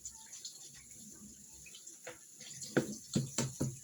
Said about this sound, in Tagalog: Ako rin maghuhugas. Nasanay na ako na ako maghugas.